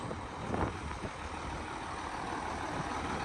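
A 1994 Case IH 7220 Magnum four-wheel-drive tractor fitted with forks, its engine idling steadily close by after running for some minutes, a constant low diesel drone with a couple of slightly louder bumps early on.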